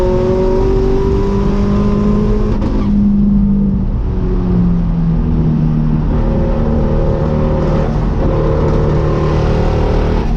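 A Nissan 240SX race car with an SR20 engine at Road America roars steadily and loudly, its engine note rising and falling through shifts and acceleration, with heavy wind and road noise and no talk.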